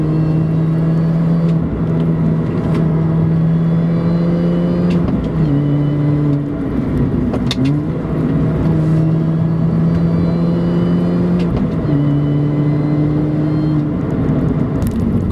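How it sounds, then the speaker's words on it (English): A supercharged 2005 Mini Cooper S John Cooper Works (R53) drives steadily with a continuous supercharger whine that rises and falls in pitch across gear changes, loud and close throughout. "That supercharger wine never gets old."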